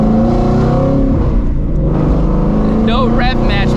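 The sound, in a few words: straight-piped Shelby GT350 exhaust during downshift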